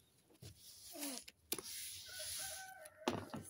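A rooster lets out a few short crowing and clucking calls, fairly near, separated by gaps and mixed with sharp mechanical whirring bursts in a quiet setting.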